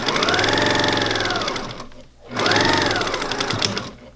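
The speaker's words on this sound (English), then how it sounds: "So I start sewing, and I'm using a relatively thin," A sewing machine runs a thin, small-length stitch through fabric for a scuba flag mask, its rapid mechanical chatter steady and close, pausing briefly before starting again at the same pace.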